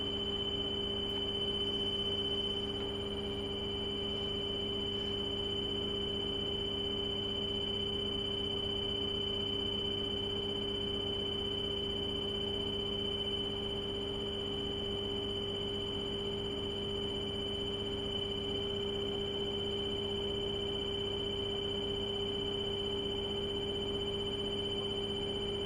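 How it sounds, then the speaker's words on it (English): A steady electronic buzzer tone on a coach dashboard after the starter button is pressed, continuous and unchanging over a low hum of the idling vehicle, with no talking. "I'm gonna wait for the buzzer to go out so he can hear me talk."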